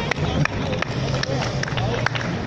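A live comedy audience at the Paris Opera claps together in a dense, continuous wash of hand claps, with a few sharper claps standing out and a voice faintly underneath.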